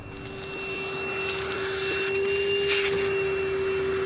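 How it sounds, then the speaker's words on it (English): A vacuum cleaner hums loudly and steadily with a strong tonal whine, close by, as it sucks excess air out of a vacuum bag laid over foam panels during construction of a small fibreglass tender boat. "The vacuum cleaner is used to remove most of the excess air out of the bag."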